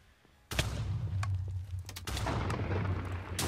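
Explosions and gunfire from the Tekkit Lite modded Minecraft game, with dynamite in play: a sudden loud blast, then sustained rumbling booms and sharp cracking shots continuing densely to the end.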